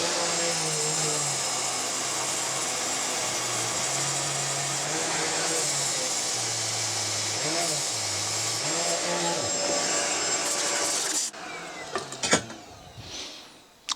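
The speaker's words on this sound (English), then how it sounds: "Switch to a small flap wheel just to finally finish it off." A small flap wheel grinds a cylinder head's combustion chamber, a steady high whirring with wavering pitch as the tool loads and eases, running continuously before stopping, followed by a few clanks.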